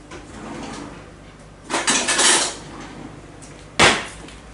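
A rolling pin rolls out dough for regañás crackers on a work surface, making a short rumbling roll followed later by a single sharper knock. The sound is close and has no talking.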